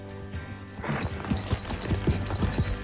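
Hooves clip-clop in a steady trotting rhythm, fairly close, over a low steady hum with some background noise.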